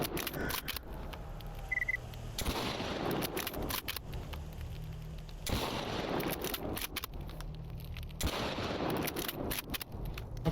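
Sniper rifle shots in the S.T.A.L.K.E.R. shooter game, three or four sharp, loud reports spaced a few seconds apart, each followed by a brief rumbling tail.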